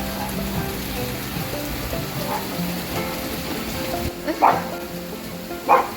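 Heavy rain falls steadily on outdoor surfaces, a dense even hiss throughout with a few louder splashes or knocks near the end.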